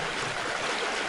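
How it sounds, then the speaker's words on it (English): Waterfall in a video game map, a steady, dense rush of falling water filling the whole moment without pause. "This waterfall's okay."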